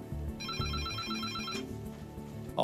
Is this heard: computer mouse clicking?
no